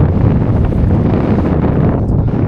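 Strong wind blowing over yabby nets by the water, a loud, continuous rough rumble buffeting the microphone with no break.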